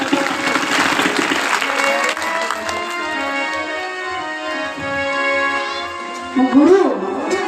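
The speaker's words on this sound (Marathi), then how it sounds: "आमच्या राजा त्यासाठी जरा जोरदार टाळ्या वाजवा" Loud applause sweeps through a crowd at a Shiva Purana religious gathering, steady clapping layered under music and voices.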